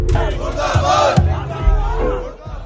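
A street crowd chants slogans against America and Israel in loud, rhythmic collective shouts, massed voices rising and falling in repeated bursts close by.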